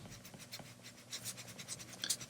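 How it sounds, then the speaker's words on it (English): An eraser rubs over pencil lines on paper in quick, close, scratchy back-and-forth strokes, quiet and continuous. "So I'm going to erase the previous lines"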